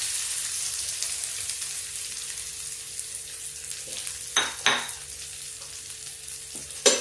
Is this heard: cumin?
yes